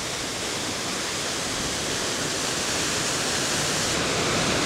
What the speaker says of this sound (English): I guess this is the main waterfall.